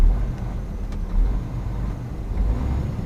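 A 450-horsepower Scania truck engine being revved in the cab, a deep low rumble that swells and eases in a few surges, close and steady.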